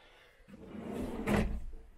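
A drawer in the kitchen of a Fiat Ducato L4H2 campervan conversion slides open or shut, giving a short, moderately loud bump and rumble up close with no talking.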